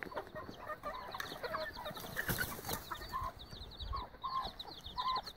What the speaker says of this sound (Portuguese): Aqui tem as, as galinhas caipira, ó, ó os pintinhos ali